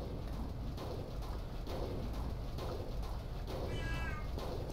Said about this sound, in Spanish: No sé si lo oís al gato.